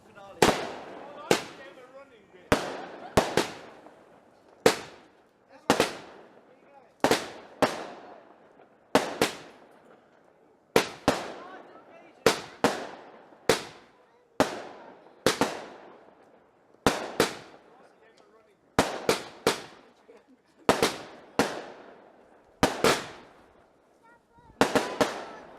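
The finale of a fireworks display sends a long run of sharp, loud bangs, single and in quick pairs, each cracking out and then fading, with people talking between some of the blasts.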